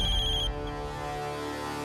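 A phone ringtone rings loudly in a home, a tonal electronic melody with a bright high note that cuts off halfway through and leaves a low, fading tail.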